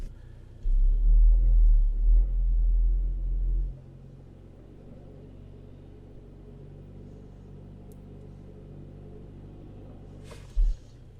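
A 2018 Hyundai Elantra engine misfiring on cylinder one from an out-of-spec spark plug, heard as a heavy low rumble for about three seconds that drops to a quieter, uneven idle, with a brief thump near the end.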